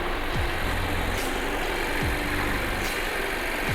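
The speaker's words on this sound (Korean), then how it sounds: "엔진 소리도 일정합니다." A used Mercedes-Benz C200 Avantgarde engine idles steadily nearby, a constant low rumble with a faint rhythmic pulse and no voices.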